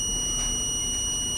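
An electronic buzzer in an alcohol-detection circuit sounds continuously with a steady high-pitched tone, close and unbroken, with no voices.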